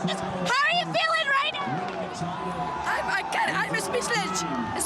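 Toronto Raptors fans celebrate the 2019 NBA championship in the street, a dense close crowd of cheering, whooping and shouting voices that holds loud and steady throughout.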